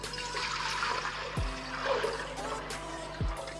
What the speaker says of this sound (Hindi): सबसे पहले मैं इसमें थोड़ा पानी डालूँगी कुकर में